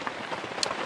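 Heavy rain pours steadily around a hillside bamboo hut in the cold, a dense hiss with a few sharper drops standing out.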